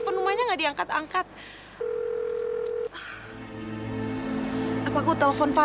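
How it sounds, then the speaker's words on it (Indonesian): An unanswered call to a home landline produces a single long, steady ringing tone heard between stretches of dialogue and background music. "Kok telepon rumahnya nggak diangkat-angkat?"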